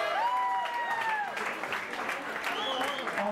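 Crowd claps for the team Natural Order at a ranking announcement, a dense spread of applause with a host's voice and bright tonal sounds sliding over it throughout.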